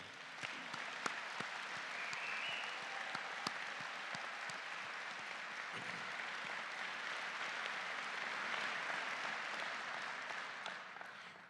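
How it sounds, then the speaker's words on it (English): A large audience applauding at a doctoral hooding ceremony, a steady, sustained wash of clapping lasting over ten seconds, heard from a distance and fairly quiet, with a few sharper claps standing out. "you most certainly deserve a very, very special round of applause from all of us"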